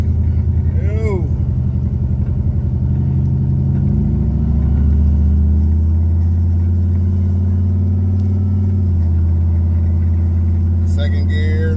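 A turbocharged Chevrolet Caprice engine pulls hard through the gears, a loud continuous close-up drone rising in pitch with a shift partway through, while a person talks over it.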